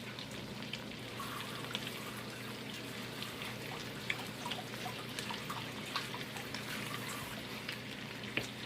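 Tap water runs faintly while spilled molasses is washed off, a soft, continuous splashing hiss broken by small scattered drips and clicks.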